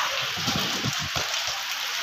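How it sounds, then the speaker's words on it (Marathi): Steady heavy rain hisses as a dense wash during a stormy downpour in a Ratnagiri village, with faint low thumps and gurgles beneath and no speech. "पाऊस बघा"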